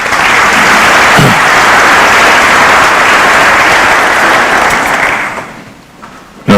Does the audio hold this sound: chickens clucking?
no